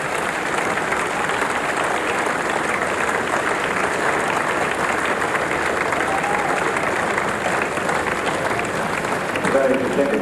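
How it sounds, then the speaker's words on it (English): A cricket crowd at a Test match in Adelaide claps steadily and loudly, a sustained burst of applause that fills the whole stretch with an even wash of hand claps and no pauses. "Now, what's that burst of applause for?"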